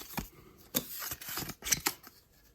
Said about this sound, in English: So shuffle all these together